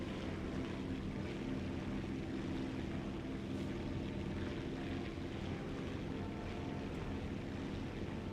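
A 1940s propeller plane flies in War Thunder, its engine a continuous rushing drone with a low propeller throb and airy wind noise, steady and moderately loud with no voices.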